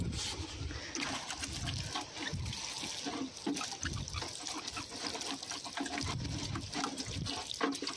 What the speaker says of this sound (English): add some water to this first.